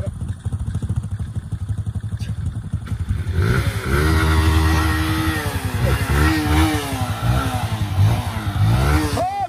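Mini motorcycle being started on a trail: rapid chugging attempts of a small engine, then it catches and revs repeatedly in rising and falling bursts, loud and close, with people talking around it.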